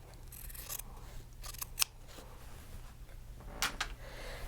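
Quilt fabric being cut along a drawn cutting line with scissors, giving a few close, crisp snips and rustles with short pauses between them.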